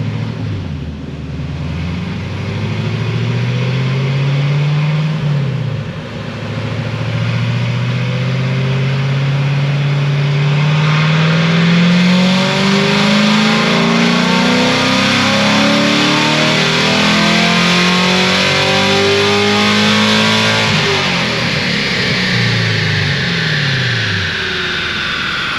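Base model Corvette C7 fitted with a supercharger and headers, its engine revving hard through a dyno pull: a loud, rising howl that climbs, briefly drops at a shift, then climbs again with supercharger whine.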